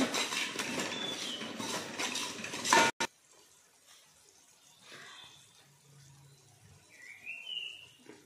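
Spices such as coriander powder and garam masala are stirred together in a pot for chicken biryani, with a few seconds of busy scraping and clinking up close, then a sharp clack and near quiet.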